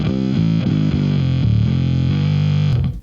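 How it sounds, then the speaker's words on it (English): Bass guitar played through a Darkglass Electronics DFZ dual fuzz pedal, a thick, distorted, synth-like buzzing line of short repeated notes, loud and close, cutting off abruptly at the end. "the DFZ, the dual fuzz engine from Darkglass Electronics"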